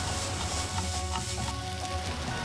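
Minced garlic and ginger fry in a pan with vegetables for a vegetable stir fry, a steady close sizzle with occasional crackles and light stirring, no voices.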